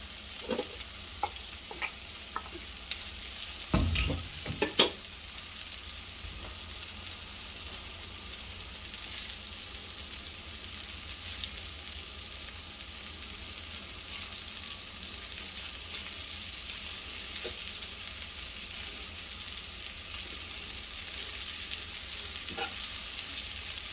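Lo mein noodles drop into a hot pan and frying sizzle rises; after a loud splash of contact near the start, a steady broadband hiss of sizzling and stirring continues close up, with a few faint clatters of utensils.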